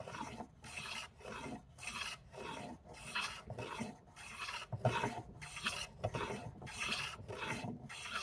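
A hand file rasping across a piece of wood to flatten its top, a close, steady back-and-forth scraping in even strokes of about two per second, with no voices.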